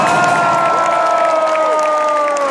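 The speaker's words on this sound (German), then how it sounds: "ein Applaus für ihn, bitte" Concert crowd at a rap show in Oberhausen applauding and cheering for a fan brought on stage, a dense steady roar of clapping and shouts, with sustained tonal crowd noise running under it throughout.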